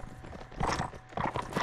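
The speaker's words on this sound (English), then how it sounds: "it makes sounds like a horse." Muffled hoofbeats clip-clop in quick pairs, a short trotting rhythm at moderate volume with a faint game-like ambience behind, from the game Mount & Blade: Warband with the 1776 mod.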